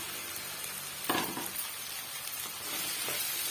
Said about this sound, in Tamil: நம்ம கட் பண்ணி வச்சிருக்க உருளைக்கிழங்க வந்து சேர்த்து விட்டுக்கலாம்